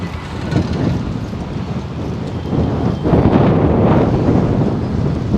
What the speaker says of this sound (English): Now the wind is kicking, right? The wind's kicking, so it's giving the camera some cool down.